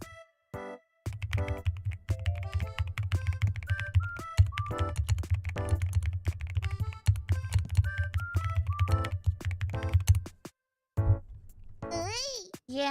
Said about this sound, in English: The keyboard I'm using right now is a very pretty keyboard that makes like really pretty sounds